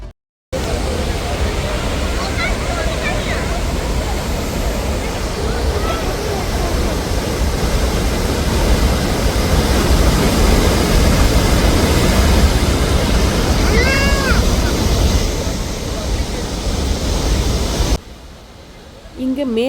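Athirappilly waterfall in Kerala roars as a loud, steady, dense rush of falling water that barely changes for about eighteen seconds, with faint voices mixed into the din.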